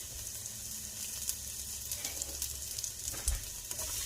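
Garlic sizzles gently in a pan on low heat for a homemade alfredo, a soft continuous hiss with faint crackles, close and quiet, no voices.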